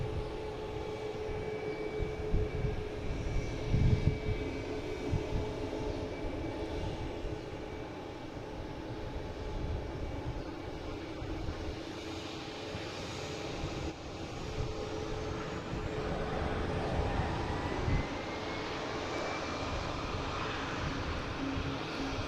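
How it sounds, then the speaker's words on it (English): Southwest Boeing 737-800 airliner coming in to land from Austin, a steady distant jet roar that swells gently while it approaches, with no voices. "we have Southwest coming in from Austin, the 737-800, flight 551"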